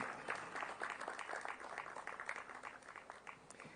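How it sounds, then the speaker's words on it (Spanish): Steady applause from a conference audience after a talk, dense clapping filling the space without a break and fading slightly toward the end, with no voices over it. "Por favor, las palmas nuevamente por su exposición el día de hoy."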